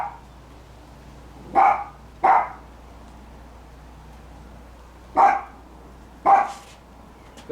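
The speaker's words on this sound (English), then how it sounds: "And the dog likes it. And that's Chloe talking to the neighbors." A dog in a French-style courtyard garden barks at the neighbours, with five sharp separate barks spaced irregularly across a quiet background and a sixth cut off at the very end.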